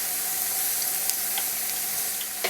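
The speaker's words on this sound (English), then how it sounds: "As soon as the beet slices stop sizzling so vigorously and look golden on the edges and pale red in the center, they are done." Beet slices fry in hot oil with a steady, dense sizzle and scattered pops and crackles, close and continuous for a few seconds with no talking.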